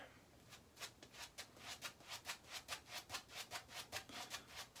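A shaving brush scrubs lather into stubble on the face with quick, rhythmic bristly strokes, about twenty in a row, soft but close, with no talking.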